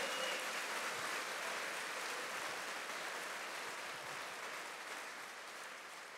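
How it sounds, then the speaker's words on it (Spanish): Sustained applause from a large church congregation, a steady dense wash of clapping that gradually fades slightly over several seconds. "denle un aplauso fuerte"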